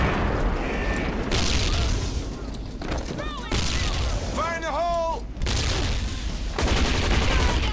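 Dense bursts of enemy gunfire and booms from the shooter video game Hazard Ops, loud and continuous with a few short gaps, while someone talks over the action.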